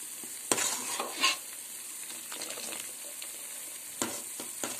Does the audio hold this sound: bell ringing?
no